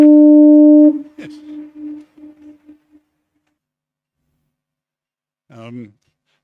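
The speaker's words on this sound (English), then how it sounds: "I found sleeping with that foghorn going quite difficult." A foghorn sounds in misty, cold weather with one loud, deep, steady blast lasting about a second. Its echo then fades in a few decaying pulses, and a brief voice comes in near the end.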